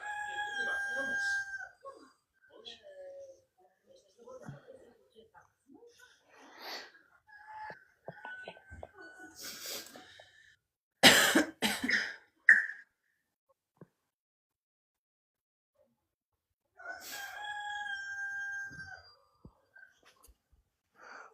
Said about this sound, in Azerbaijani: Xoruz nə çox banlayır orada